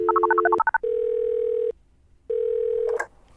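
A telephone call is dialed, with a quick run of keypad tones and then two long ringback tones separated by silence, clear and alone with no talk.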